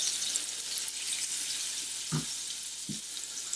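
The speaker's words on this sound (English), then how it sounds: "So I've got a preheated pan here. I'm going to get some butter in. I'm also going to get a little bit of olive oil." Butter and olive oil fry in a preheated pan with a steady, fairly quiet sizzle, broken by two soft clunks near the end.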